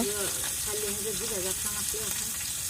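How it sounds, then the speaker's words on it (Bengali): Hilsa fish heads fry in a pan, a soft continuous sizzle sitting under a person's voice talking nearby. "প্রথমে মাছের মাথাগুলি ভেজে নিব"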